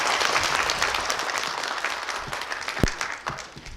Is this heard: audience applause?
yes